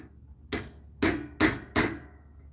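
Four sharp hammer blows strike rivets on armour plates for a brigandine, each a loud metallic clang with a brief ringing tail, evenly spaced over a couple of seconds in a quiet room.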